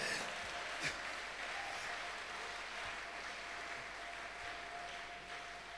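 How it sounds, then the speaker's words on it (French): A church congregation applauding during a worship service, a continuous even clatter of clapping that stays at a moderate distance and slowly fades slightly, with no clear voices on top. "Acclamez très fort pour le Seigneur"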